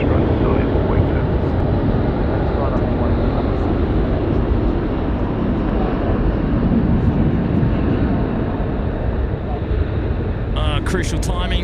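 An Emirates airliner rolls for takeoff at Sydney Airport at night, its jet engines giving a loud, continuous, even roar that fills the whole stretch, with a brief burst of other sound near the end.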